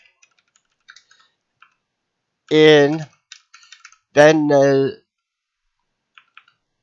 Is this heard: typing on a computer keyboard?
yes